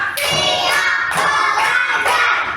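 Children in a classroom clapping hands in a rhythmic classroom chant, several bursts of group claps at regular intervals, close and fairly loud with faint voices mixed in.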